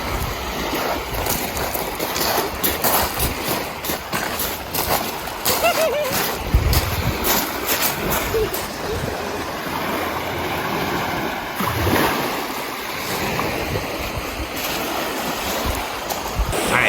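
Waves wash steadily onto a sandy Lake Superior beach, a continuous close rush and splash mixed with wind buffeting, with no voices heard.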